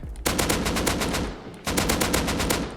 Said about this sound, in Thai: จะทำให้ปืนเนี่ยค่าไฟเลทเพิ่มขึ้นไปอีกอัตราการยิงก็จะเร็วขึ้นไปอีกนะครับ คือมันจะเร็ว แล้วมันจะออกรัวมากนะ